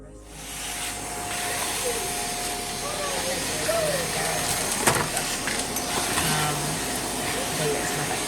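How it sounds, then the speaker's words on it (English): A Shark Navigator pet vacuum cleaner runs in a bedroom set up in a garage, a steady loud whooshing drone with a high whine, continuous for several seconds after starting up. "there's my vacuum cleaner"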